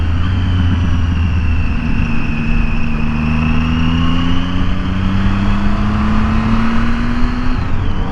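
A motorcycle engine running after a dose of Redline fuel system cleaner and 93 octane, a loud steady hum with pitch rising gradually as it revs, close by with no talk.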